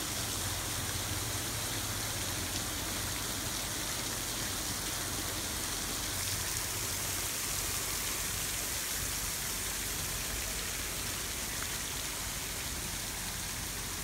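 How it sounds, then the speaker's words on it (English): Water dripping and trickling through a sculpture, a dense, steady hiss of many small drops, continuous and fairly soft, with no voices. "So the water comes through the hole"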